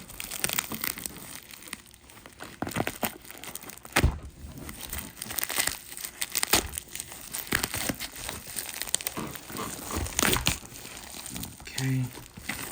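A heavily taped package with bubble wrap being unwrapped: close crinkling, rustling and tearing bursts of varying loudness throughout, with a person talking at times.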